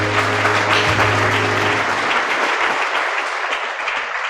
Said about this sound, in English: So can we clap for the parent, the mother to the president?